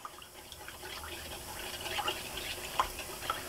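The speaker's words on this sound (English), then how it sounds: "Go ahead and stir that up." Mustard, celery seeds and other spices being stirred into a rib mop sauce in a pot, giving soft, quiet liquid swishes and faint drips with occasional light clinks.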